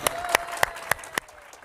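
Five sharp, evenly spaced claps from a single person ring out over a quiet room, each crisp and close, followed by a brief lingering tail.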